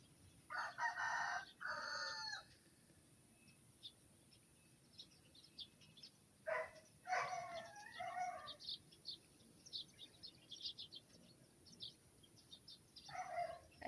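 Countryside birds in a rural Philippine province, with a rooster crowing and clucking among other calls, heard faintly and intermittently over a low steady background hum.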